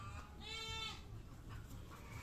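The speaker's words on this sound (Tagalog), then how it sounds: "Yan ang aming kambing" A goat searching for its mother gives a single wavering bleat, faint and somewhat distant, over a steady outdoor background hum with no talking.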